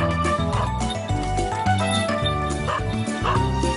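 A small Pumi, a Hungarian herding dog with terrier looks, barks and yips in quick repeated bursts, loud and close, over a busy background.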